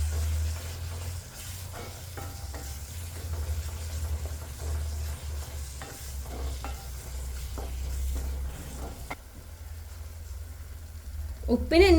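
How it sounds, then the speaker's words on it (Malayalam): Chili powder masala being sautéed and stirred for a chicken curry, a steady sizzle with scraping stirs under a low background hum throughout. "ഇനി ഇത് ഒന്ന് വഴറ്റിയെടുക്കാം"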